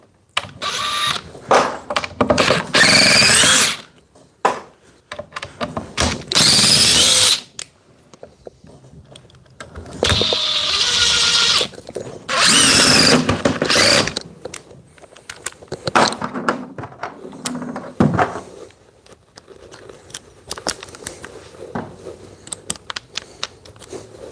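Short and longer runs of a Dewalt DCF870 impact driver sinking screws come in several close, loud bursts, with quieter clicks and handling noise between them.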